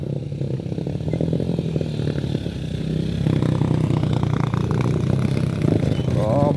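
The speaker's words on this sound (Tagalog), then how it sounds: "kalakas yung motor oh" A motorcycle engine rumbles steadily nearby on a ride at Sitio Paradise, Kapatagan, growing a little louder partway through, with some chain clattering mixed in.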